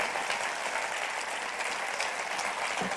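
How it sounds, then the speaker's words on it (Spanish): A church congregation at a Sunday service applauds, a steady dense wash of clapping filling the whole moment without any speech over it. "denle un aplauso"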